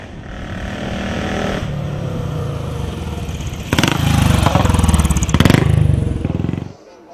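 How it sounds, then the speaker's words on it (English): An NK3 Seeley-framed Gold Star motorcycle climbs the test hill at Brooklands, its single engine roaring loud and close, growing harsher and louder midway as it pulls up the slope, then cutting away at the end. "NK3 Sealy framed bike. And up the hill it goes."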